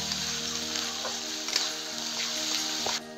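Ginger-cumin paste frying in a pan for a spinach egg curry, a steady close sizzle with a few faint stirring scrapes, cutting off abruptly near the end.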